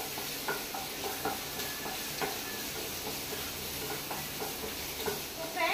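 Chopped onion frying in a pan for a Konkani bamboo shoot bhaji, with steady close sizzling and repeated scraping stir strokes throughout, no talk.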